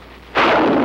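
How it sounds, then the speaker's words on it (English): A bazooka fires with a single loud, close blast that erupts suddenly and rolls on in a sustained roar. "The bazooka."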